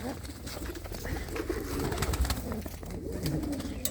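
A pair of red Chinese pigeons coo softly and steadily, with low murmuring calls over light ambient noise and a faint voice in the background.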